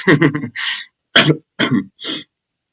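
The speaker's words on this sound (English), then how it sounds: "Sorry that I'm coughing and stuff." A few harsh throat-clearing coughs close to the mic from a person who is ill, a quick cluster followed by three separate bursts with short pauses between.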